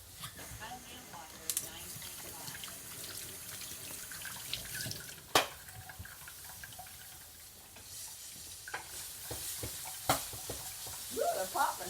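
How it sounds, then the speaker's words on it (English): Water runs from a kitchen tap as hands are washed at the sink, a continuous hiss with scattered clatters and splashes, while food sizzles nearby during cooking. "Wash my hands right quick."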